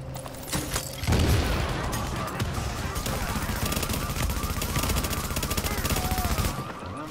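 Rapid automatic gunfire from the shooter game Tom Clancy's The Division rattles in dense bursts after a short quieter opening, loud and continuous for several seconds before cutting off.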